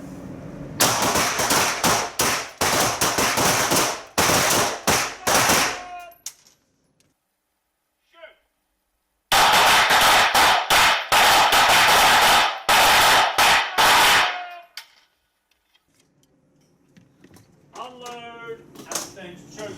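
Pistol fire on a police pistol shooting course comes as two long strings of sharp, rapid, loud shots, separated by a quiet pause with a few faint clicks.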